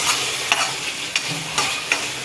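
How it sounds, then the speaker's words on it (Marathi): A spoon stirs onion tomato gravy for egg masala in a hot pan, with a steady close sizzle and four quick scraping strokes evenly spaced, and no speech. "आता आपण ह्याला व्यवस्थित मिक्स करून घेऊ."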